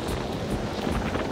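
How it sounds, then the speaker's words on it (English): Strong wind buffets the microphone on a snowboarding slope, a dense, gusty roar that fills the short moment with no speech. "Pretty windy right now!"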